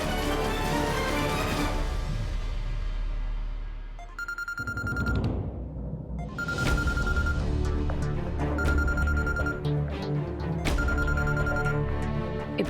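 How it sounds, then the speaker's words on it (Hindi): A phone ringing in repeated bursts over background music, the electronic ring returning several times at regular intervals. "इबादत का फोन है"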